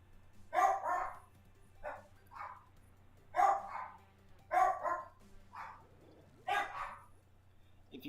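Indoor dogs trade barks in an irregular run of about a dozen sharp, mid-distance woofs, often in quick pairs, over a faint steady hum with no talking.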